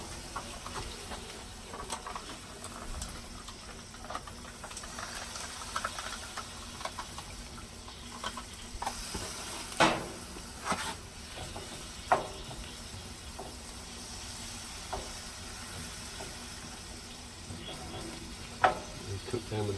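Mushrooms fry on a Blackstone griddle with a steady low sizzle and hiss, broken by a few sharp clicks and scrapes of stirring, with faint talk in the background.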